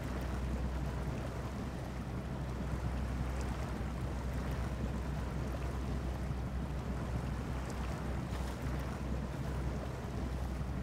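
TUZ 166 truck in the Snowrunner video game wading through water up to its hood, giving a steady rushing of water and engine rumble throughout, with no talking.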